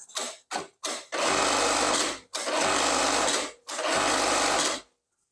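A Juki 1900 AHS bartack industrial sewing machine stitches in three loud, dense mechanical bursts of about a second each, preceded by a few sharp clicks, close and with no talk.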